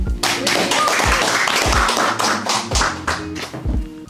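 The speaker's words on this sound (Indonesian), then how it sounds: "Tepuk tangan." A group at a military cadet training event claps hands, a burst of sharp, uneven claps and taps close by, irregular rather than a sustained roar of applause.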